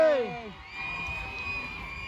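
An outdoor crowd at the Lincolnshire Show cheers and shouts, opening with loud rising whoops and squeals from children, then settling into a sustained, fainter mix of distant cheering and murmur.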